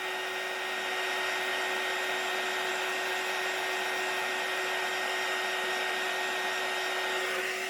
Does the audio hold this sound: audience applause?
no